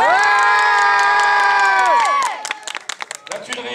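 A crowd of children at a club prize ceremony holds a loud, sustained cheering shout, which cuts off into scattered clapping and a few lingering yells.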